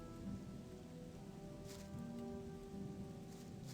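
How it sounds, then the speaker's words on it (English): Rain in the video game Gothic, a soft, faint, steady patter with light droplet ticks and a low rumbling bed, no voices. "I think the rain is ceasing"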